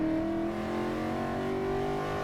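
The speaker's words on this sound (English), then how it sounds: "one of the best naturally aspirated V8 engines Ford has ever made for road racing applications" Naturally aspirated V8 of a Ford Mustang Boss 302 track car holds a steady, loud drone with rising harmonic tones, a continuous engine note with no break and no voices.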